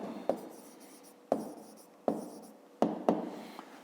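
Pen writing numbers on paper for a fifth-grade maths exercise, in five short scratchy bursts, each starting with a tap and trailing off, close and alone.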